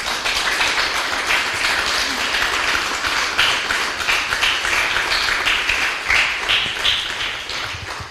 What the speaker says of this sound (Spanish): Den un fuerte aplauso al Señor, aleluya.